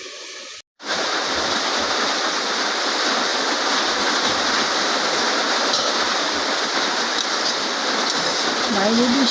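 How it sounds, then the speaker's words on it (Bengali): Rain falling outside in a village: a loud, dense, unbroken roar of rain that starts abruptly after a brief gap at the beginning and holds steady throughout, close and full, with no voices. "বাইরে বৃষ্টি হচ্ছে, তাই কথার আওয়াজটা কম শোনা যাচ্ছে"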